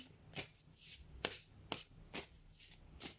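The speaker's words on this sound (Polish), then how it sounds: "Wyciągniemy sobie jeszcze karty wyroczniej." Oracle cards being shuffled by hand, several short, crisp riffling bursts about every half second, close and fairly quiet, with no talking.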